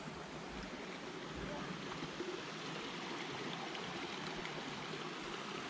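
Water of the Middle Fork Snoqualmie River flows steadily along a forest trail, a soft, continuous rushing wash that stays even and fairly faint throughout, with no voices.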